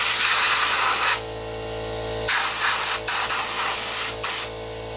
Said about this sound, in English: Might as well blow the dust out of this while I'm at it.